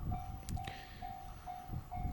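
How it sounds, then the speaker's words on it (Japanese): A 15-car Yokosuka Line commuter train passes a level crossing in Kamakura: a steady rolling rumble of wheels under a repeating high ringing tone, heard up close with no talking. "来ましたよ、横須賀線。"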